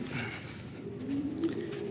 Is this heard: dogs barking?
no